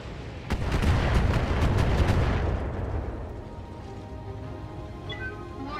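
Missiles slam into a mech in the BattleTech video game, a dense run of loud rapid booming impacts over a low rumble that fades into a lingering, ringing decay.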